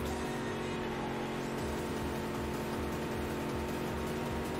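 Race car engine in a NASCAR dirt racing video game, a steady droning roar with a low pulsing rumble throughout and no voices.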